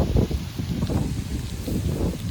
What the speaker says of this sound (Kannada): ಗಾಳಿ ಅಂತೂ ತುಂಬ ಬಿಡ್ತಿತ್ತು.